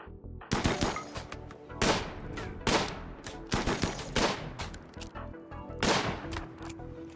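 Assault rifle gunfire in the colony game RimWorld, repeated sharp bursts of shots in an irregular rhythm, loud and close, with no voices.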